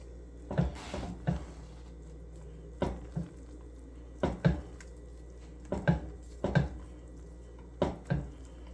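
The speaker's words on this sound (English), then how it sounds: "we'll give it a good stir, make sure all the herbs and everything are well distributed around the pan" A metal utensil stirring herbs in a pan while cooking a holiday dinner, heard as a string of soft irregular scrapes and knocks against the pan, spaced apart and fairly quiet.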